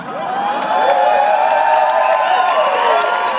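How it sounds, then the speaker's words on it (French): An audience at a comedy show during the Fêtes de Wallonie erupts in loud, sustained cheering and whooping from a crowd, with no speech over it. "l'applaudissez pas trop, il va prendre goût"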